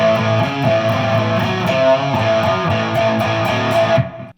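A heavily distorted Les Paul electric guitar through a Marshall 1959 hand-wired Super Lead reissue plays a chugging riff with steady rhythmic strums, loud and alone, then cuts off abruptly at the end.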